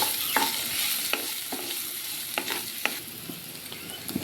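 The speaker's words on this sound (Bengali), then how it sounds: "এর মধ্যে সামান্য একটু নুন দিয়ে সবজিগুলিকেও হালকা করে ভেজে নেব" Boiled vegetables and beans fry with a little salt in hot oil, giving a steady close sizzle broken by soft scraping stir clicks.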